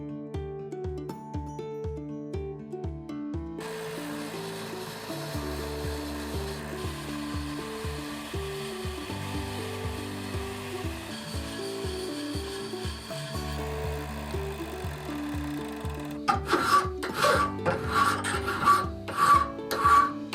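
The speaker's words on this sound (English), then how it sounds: "I'm gonna now take this over to the bench belt grinder and the drum sander, just to give it a better edge." Scrap metal being sharpened on a bench belt grinder and drum sander: a steady, close rasping grind with repeated rhythmic passes, growing harsher and more broken near the end.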